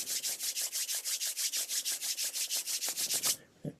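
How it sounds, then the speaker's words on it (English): Two hands rubbed briskly together to warm them, making a steady run of rhythmic, close swishing strokes that stop suddenly, with no talk. "rubbing my hands till they get nice and warm"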